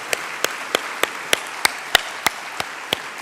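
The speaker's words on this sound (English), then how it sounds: "Please join me in a round of applause for these accomplishments in external grants and contracts" Evenly spaced, crisp hand claps at a steady slow rhythm, about three per second, from the audience at a university convocation in a hall, moderately loud with no talk.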